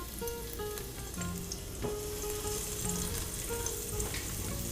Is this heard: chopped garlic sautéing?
yes